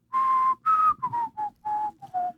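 A person whistles a short tune in imitation of a cockatiel whistling a song, a series of clear, bright notes in a bouncy rhythm, close and alone.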